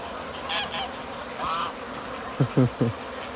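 A dense buzzing drone of a swarm of honey bees leaving a hive fills the background, with brief voices and a few short honk-like calls near the end.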